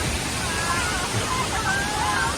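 Wachirathan waterfall in Thailand, on the road to Mae Hong Son: a steady, broad roar of falling water that fills the scene, with faint voices talking beneath it.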